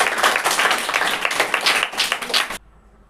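An audience of schoolchildren and teachers claps loudly and densely for a class 5 school play, the applause continuing unbroken for a few seconds and then cutting off suddenly into near silence.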